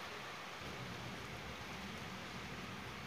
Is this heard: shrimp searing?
no